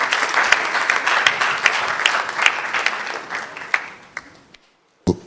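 Audience applause welcoming a speaker at the NSMQ 2025 national championship launch, a full room clapping loudly and then fading to scattered claps, silence, and a final thump.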